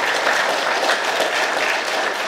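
An audience at a book launch event bursts into steady, dense applause after a congratulatory speech, the clapping loud and continuous throughout.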